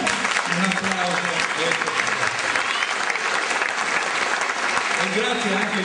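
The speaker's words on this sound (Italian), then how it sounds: "Un applauso." Sustained audience applause fills a theatre after a staged performance of a comedy, dense steady clapping from many hands, loud and continuous throughout with a few voices mixed in.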